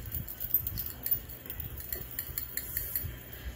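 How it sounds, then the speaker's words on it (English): A whisk mixing ingredients in a bowl for a Slavic rogaliki pastry dough, giving continuous scraping and light metallic clinking, fairly close and unaccompanied by talk. "give it a quick mix with the whisk"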